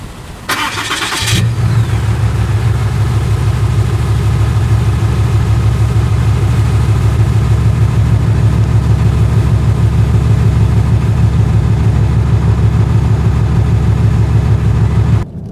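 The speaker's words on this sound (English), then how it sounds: "This is 6th generation Cummins cold start." A 2022 Ram 2500 crew cab with a 6.7 Cummins diesel cold starts with a short cranking burst, then settles into a loud, steady, low rumbling idle that runs unbroken to the end.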